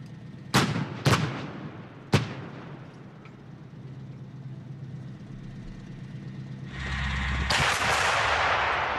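A German PzH 2000 self-propelled howitzer fires three sharp, booming shots in quick succession, each followed by a rumbling echo, then a loud engine roar builds near the end.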